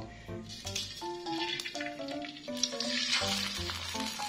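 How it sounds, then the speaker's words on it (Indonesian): Beaten egg sizzles and fries in a hot pan, a close, steady crackle under a faint musical backdrop. "kocokan telur bisa kita masukkan ya teman-teman"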